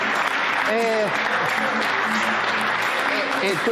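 An audience at a sports broadcast event claps continuously, with voices talking and calling out over the applause.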